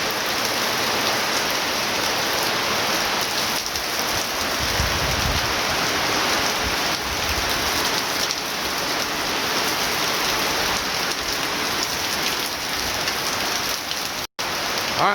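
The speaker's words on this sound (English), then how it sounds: "it is raining so hard" Heavy rain pours steadily onto a beach house construction site in the Philippines, a dense, unbroken hiss of drops hitting surfaces with a faint trickle of running water underneath.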